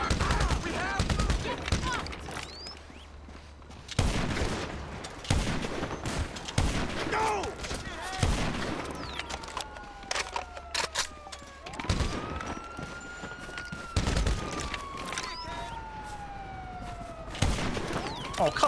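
Video game gunfire in a GTA Online police shootout: rapid bursts of shots and volleys with police sirens wailing and rising and falling, and a voice talking in between.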